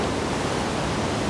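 Water rushes through the Koshi barrage as its gates open, a loud, unbroken roar of broadband noise that stays constant throughout.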